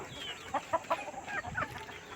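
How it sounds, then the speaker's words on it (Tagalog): Fighting roosters cluck and call in a short, faint burst of several sharp notes, nearby but quiet, with no talking. "Ito, ang daming manok na kumpare ko."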